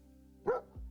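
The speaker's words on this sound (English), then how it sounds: "you would get my little dog to bark at you when you hit the follow button" A small dog gives a single sharp bark as a livestream follow alert, close and clear over a quiet electronic hum, followed by a brief low thump.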